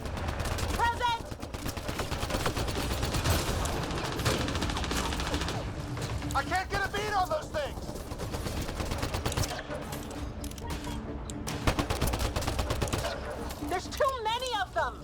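Rapid gunfire and weapon bursts from the Mass Effect Andromeda video game, loud and sustained across the clip with shouted voices over the shooting.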